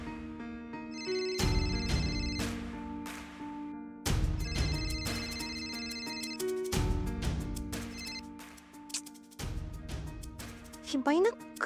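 A mobile phone rings with a melodic ringtone that no one answers: a repeating tune of bright tones plays in several close, loud cycles, with a brief pause between each.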